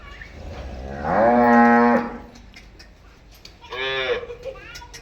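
Cows on a farm in the village of Bhalashara, Tharad, Banaskantha, lowing in two long, loud moos with a quieter pause between, close by and without any talk.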